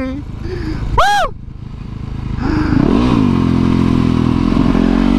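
A supermoto motorcycle riding off road on wet ground, its engine droning close and loud. A man whoops and exclaims excitedly over the machine near the start.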